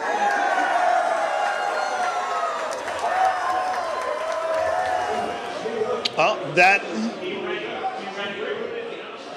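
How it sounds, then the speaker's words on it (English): Charlotte Hornets fans at a 2022 NBA Draft watch gathering erupting as Mark Williams is picked fifteenth, a loud, sustained crowd roar with cheering, whoops and scattered clapping, voices shouting throughout and a few sharp claps near the end. "That's reaction for the Mark Williams pick, of course, which went at 15, and of course the crowd went wild once again."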